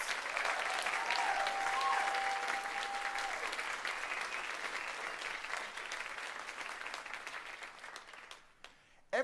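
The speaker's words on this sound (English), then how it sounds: "So please, everybody, give one more round of applause for all of the masquerade participants." At the CONvergence 2025 closing ceremony, a large crowd gives a long round of applause for the masquerade participants. It starts full and even, with a brief whistle-like tone early on, then thins and dies away toward the end.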